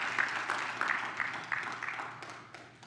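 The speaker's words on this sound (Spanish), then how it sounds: "Denle un aplauso al Señor mientras se sienta y tomo agua" A church congregation applauds in a steady wash of clapping, with faint voices mixed in during a Spanish-language worship service.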